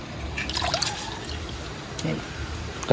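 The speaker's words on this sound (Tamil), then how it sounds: "ஒரு கப் தண்ணி விட்டுக்கிட்டாக்கு" A cup of water poured into a pan for making sugar syrup for a Jaffna sweet, heard as close trickling and splashing with intermittent drips, moderately loud.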